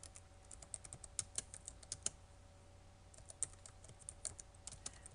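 Quiet, irregular keystrokes tap on a computer keyboard while code comments are entered, with short bursts of clicks separated by brief pauses.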